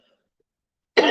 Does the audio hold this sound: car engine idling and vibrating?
no